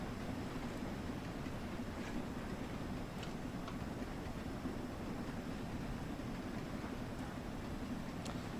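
Steam locomotive running with low steam pressure on the Peak Forest line in Train Sim World 3, a steady dense rumble and hiss throughout with faint intermittent ticking and clicking from the track.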